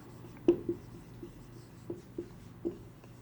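Pen strokes on paper while working through an accounting problem, a few short scratchy marks spaced irregularly, quiet and close with no talk.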